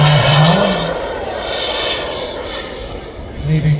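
A turbine jet aircraft on landing approach in dirty configuration at an airshow at Elvington, heard as a loud sustained whine and roar with a shifting engine tone, while a commentator talks over it.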